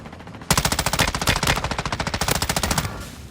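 Rapid automatic fire from an M13B rifle in Warzone 2 on Vondel, a loud sustained burst of closely spaced shots that starts abruptly and runs for over two seconds before cutting off.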